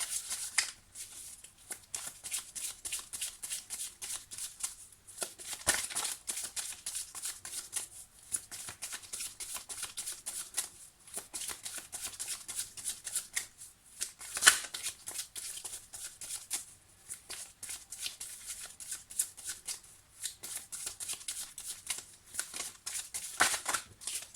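Oracle and Lenormand cards shuffled by hand for a reading, a soft, steady riffling and sliding patter that runs continuously with short pauses, close and quiet, with no talking.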